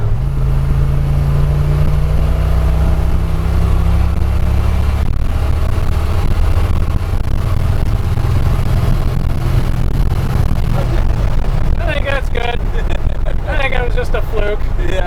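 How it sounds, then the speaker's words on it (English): A Chevy C10 truck engine roars under full throttle in passing gear on a straightaway, a loud steady cabin drone with a deep low tone that rises in pitch partway through, while people talk over it. "so as a test we decided to floor it on a good straightaway"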